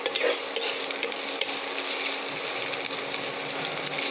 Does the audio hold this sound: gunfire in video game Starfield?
no